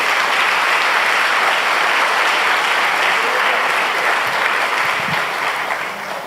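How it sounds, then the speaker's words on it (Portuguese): A church congregation in Vitória claps together, a dense, loud, sustained burst of applause that fills the room and fades slightly near the end. "Aplauda o Senhor Jesus nessa noite."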